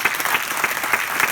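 Audience clapping at a French left-wing political rally in Muret, a short steady burst of dense applause filling the room with no voices on top.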